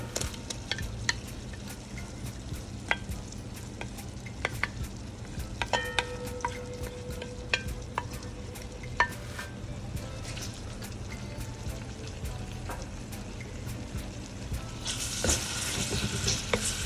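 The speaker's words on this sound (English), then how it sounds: "So let's leave this to saute a little" Callaloo and saltfish sautéing in a pan for a Jamaican-style dish, a steady soft sizzle with occasional light utensil taps and stirring, growing brighter and louder near the end.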